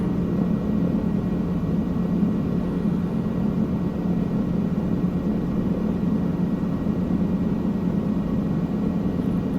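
Steady whirring drone of a helicopter cruising over New Zealand ridges in Microsoft Flight Simulator 2020, a constant loud engine and rotor hum with no talk.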